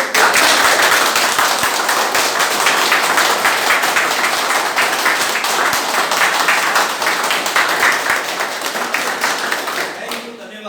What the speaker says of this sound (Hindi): एक दमदार वाली पावरफुल वाली ताली बजा के दिखा दो